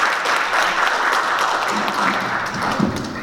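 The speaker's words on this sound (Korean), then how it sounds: "다시 한번 큰 박수로 해주시면 감사하겠습니다" Audience applause welcoming a speaker to a lecture at a study meeting, loud continuous clapping from a roomful of people filling the whole stretch.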